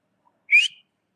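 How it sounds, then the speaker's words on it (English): A person gives one short rising whistle to call a dog. It is loud and close in otherwise near silence. "see he'll look at me when I whistle"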